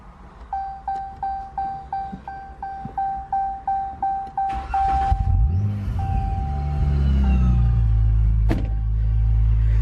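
A modified V6 car with a race transmission starts up: a dozen rhythmic chimes from a warning alert, then the starter whirs and the engine catches into a loud, deep, rumbling idle heard close by.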